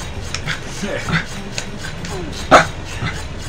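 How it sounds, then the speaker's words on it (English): A dog in the video game The Legend of Zelda: The Wind Waker gives a few short yips and barks, one louder near the end, under a person talking. "Dog, what are you doing? Come here."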